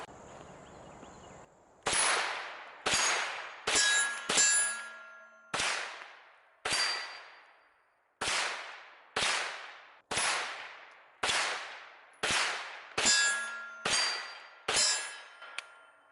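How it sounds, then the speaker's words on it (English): About thirteen gunshots from a Kel-Tec Sub 2000 carbine, each a sharp crack with a ringing metallic clang from steel targets, fired singly at uneven intervals with decaying echoes outdoors. "let's take a couple more shots with it"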